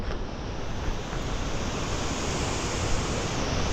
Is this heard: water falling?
yes